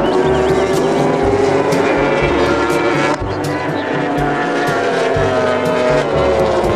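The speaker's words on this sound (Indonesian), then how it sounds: "ada dua motor GP sedang balapan" Loud, continuous roar of two GP racing motorcycles revving and whining at high speed, pitch rising and falling as they accelerate, with no pauses throughout.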